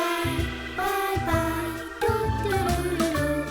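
A song from the video game FNaF Secret of the Mimic plays loud and up close, with layered sustained tones, a deep bass line and steady rhythmic pulses shifting every half second, no voice.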